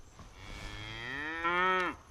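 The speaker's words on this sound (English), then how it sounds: "there's some cows coming up down through there" A cow moos once, a long rising low call held for about two seconds, fairly close and clear, with no talking.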